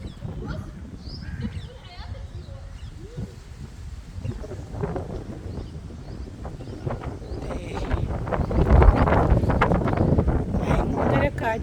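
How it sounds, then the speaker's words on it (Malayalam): Gusty wind roars across a flooded UAE road near a fallen tree after heavy rain, buffeting the microphone with a low rumble that grows stronger toward the end, with voices faintly mixed in. "കാറ്റുണ്ട്."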